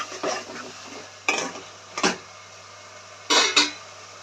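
Ginger garlic paste being stirred into a pan for Nellore fish curry, heard as a few separate scraping bursts of a spoon against metal over a faint sizzle, with quiet gaps between the strokes.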